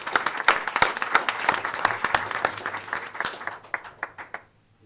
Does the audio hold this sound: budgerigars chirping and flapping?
no